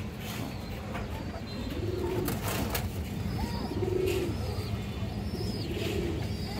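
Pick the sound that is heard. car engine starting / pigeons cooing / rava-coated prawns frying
pigeons cooing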